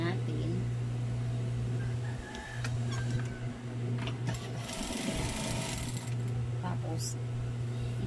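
Sewing machine stitching along the edge of a duvet cover, a steady motor hum with continuous stitching rattle running the whole time, close and loud, with brief pauses in speed and someone talking over it.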